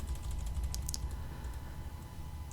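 Arrow keys tapped on a computer keyboard, several quiet clicks in a loose cluster near the start, then a faint room hum with no talk.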